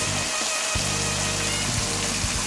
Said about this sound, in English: There's a lot of liquid or fluid in the lobster, so therefore you'll hear a lot of frying